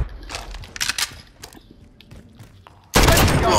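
A gunshot in Call of Duty: Modern Warfare hardcore free-for-all, a few sharp cracks and thuds early on, then a sudden loud burst of noise near the end.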